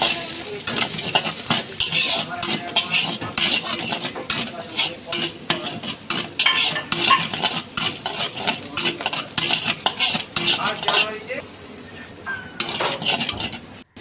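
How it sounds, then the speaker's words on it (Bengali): Chopped garlic and ginger stir-fried in hot oil with a little butter, a steady close sizzle broken by repeated scrapes and clinks of a spatula against the pan, with no talking. "তারপর দিয়ে দেবো গার্লিক চপ, জিঞ্জার চপ। হালকা নাড়িয়ে নেব ব্রাউন করার জন্য।"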